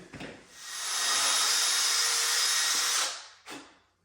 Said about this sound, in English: Let's get some pilot holes in here again.